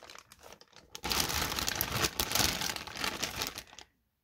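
A plastic bag around a boxed Bandai Spirits Ichibansho Wargreymon figure crinkles loudly and continuously at close range as the figure is unpacked, starting after a quiet second and stopping abruptly near the end.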